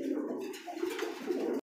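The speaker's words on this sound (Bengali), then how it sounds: "দর্শক দেখতে পাচ্ছেন সিঙ্গেল একটা নর কবুতর," A single male pigeon with ghee-coloured feathers coos close by in a soft, throaty, rolling call that stops abruptly.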